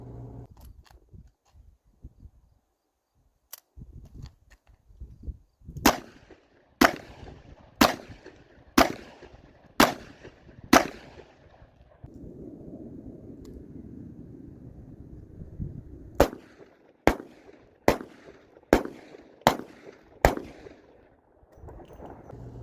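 Gunshots from a 6-shot revolver fired outdoors, heard as two strings of six sharp, loud reports spaced about a second apart, separated by a pause with wind noise, and no talk.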